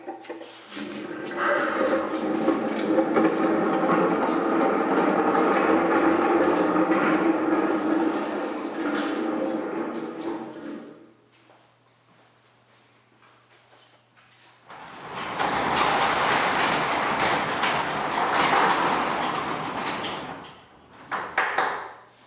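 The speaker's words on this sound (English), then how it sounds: "it would be insane not to open up that big old door for some natural light." A big old garage door rolls open in a workshop with a long, loud rumbling scrape, falls quiet, then gives a second shorter grinding burst and a brief clunk near the end.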